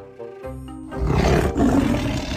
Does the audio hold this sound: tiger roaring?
yes